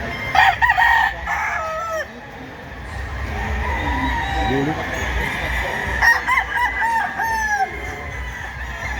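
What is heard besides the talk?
roosters crowing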